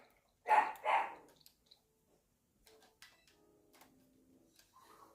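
A dog barks twice in quick succession, loud and nearby, in a room during a live Pokémon Violet game stream. Faint clicks and quiet game sounds follow the barks.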